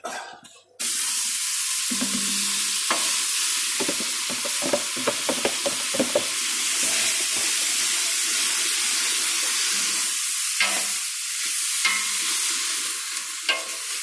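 Spices and ginger fry in a pan for carrot chutney, a loud steady sizzle broken by scraping stirs and clinks, with one brief cough.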